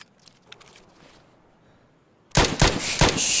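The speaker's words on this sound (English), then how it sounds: "That's the AK." AK rifle fire in Escape from Tarkov erupts suddenly after a quiet lull, a loud, close burst of rapid sharp shots that keeps going to the end.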